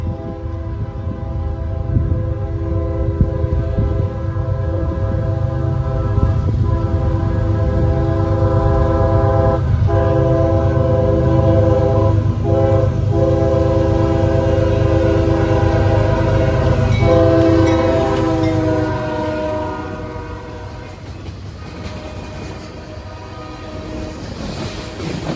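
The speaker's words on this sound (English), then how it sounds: "This is the CSX ethanol train with a interesting boxcar up front." A CSX ethanol freight train with a boxcar at the front rolls past at close range, its horn sounding in long sustained blasts over a loud, steady rumble of wheels that eases off near the end.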